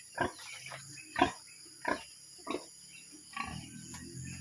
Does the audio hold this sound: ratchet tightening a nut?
no